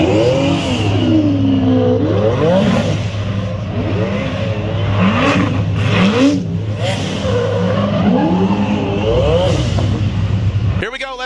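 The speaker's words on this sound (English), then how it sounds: "Joao Barion will be leading as Federico and the Ferrari 509 GTB is coming down the hill." A Ferrari 509 GTB drift car at a Formula Drift event in Atlanta revs hard, its engine note climbing and falling in repeated sweeps for the whole stretch, loud and continuous before cutting off at the end.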